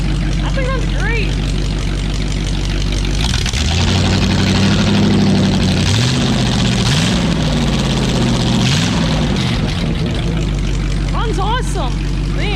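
A straight-piped Ford flathead V8-60 engine runs loud and close, a deep rumbling idle that revs up in several swells midway before settling back, with voices talking over it at the start and end.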